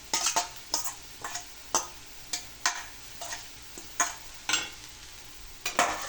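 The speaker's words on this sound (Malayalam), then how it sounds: "നല്ലോണം ചേമ്പിലേക്ക് ഇളക്കണേ." Taro leaves stirred into a pan for thoran, the spoon scraping the pan in quick repeated strokes with a soft sizzle beneath, close and steady.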